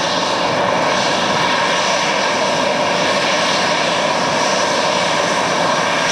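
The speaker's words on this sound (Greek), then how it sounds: "Η πρώτη πτήση της Βολωτέα στον Διεθνή Κρατικό Αερολιμένα της Καλαμάτας, καπετάν Βασίλης Κωνσταντακόπουλος" A Volotea passenger airliner on its first flight into Kalamata airport, arriving from Venice, roars loud and steady with continuous engine noise as it lands and taxis, with no voices.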